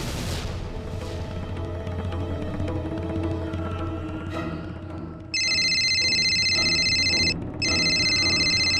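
A telephone rings with an electronic, steady high warble in two long bursts separated by a short pause, loud and close, following a stretch of dramatic background music in a TV serial scene.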